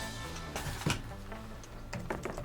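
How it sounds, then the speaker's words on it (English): Quick irregular keyboard typing close by, light tapping clicks running over a low hum with faint background voices. "How's typing with the microphone directly in front of you?"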